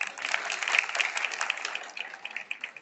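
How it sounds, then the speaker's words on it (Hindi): An audience applauds a Government of India minister at the inauguration of a college building in Tikamgarh, a steady patter of many hands clapping at moderate volume for a few seconds, with no voices over it. "जोरदार तालियां"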